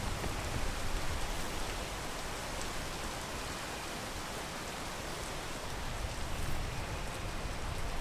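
Rain in the video game PEAK, a dense, even hiss of falling drops that holds steady and fills the whole stretch without voices.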